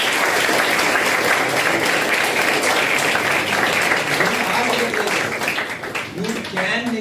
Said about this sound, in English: let's have a round of applause for VJTI